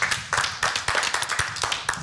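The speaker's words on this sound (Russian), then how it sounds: "Аплодисменты участникам." Studio audience at a televised cooking show clapping for contestants, a small group of hands beating in a rhythmic, evenly spaced pattern, close and moderately loud.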